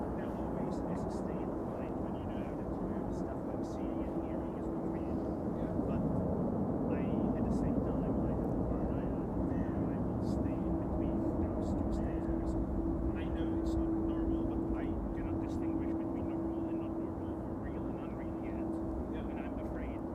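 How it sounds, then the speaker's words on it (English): A KLM Embraer 195-E2 airliner arriving from Oslo at Amsterdam Schiphol, heard as a steady, distant jet rumble with a faint whine that holds for the whole stretch, a voice murmuring quietly over it. "So this is KLM flight 1198. Arriving from Oslo,"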